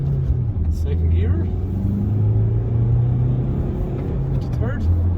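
A 2017 Honda CR-V diesel pulls uphill from first into second gear on a wet road, its engine a loud, steady droning rumble from inside the cabin as the pitch climbs and then drops at the shift.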